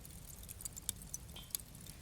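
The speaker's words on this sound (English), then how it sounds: "Firstly, we're going to start with a fireplace." A soft fireplace crackle sample used as texture in a neurofunk track, with sparse, sharp little pops and snaps over a low, quiet rumble, faint and intimate with no voices.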